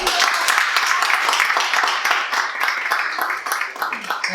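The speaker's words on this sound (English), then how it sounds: "Give him a round of applause" Audience applause for a trainer at a chamber of commerce business event, a dense steady patter of many hands clapping throughout, fairly close and loud, with a few voices mixed in.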